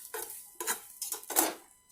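A whisk scrapes and taps around a pot of melting butter in four short, separate strokes, close by and moderately quiet, with brief gaps between them.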